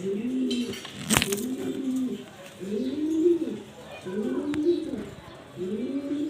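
Racing pigeons coo close by in a soft, throaty series of repeated rising-and-falling calls with short pauses between them, steady over a faint background.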